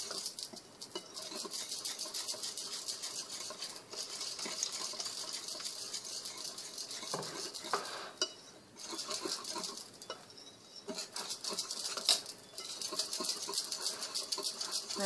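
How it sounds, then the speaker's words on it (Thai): Soft patter and light scraping of crêpe batter being stirred slowly in a bowl for Vietnamese yellow crêpes, a quiet continuous wet swishing with a few brief clinks, nearby and alone. "เราจะค่อยๆผสมใจเย็นๆกันนะโอเค"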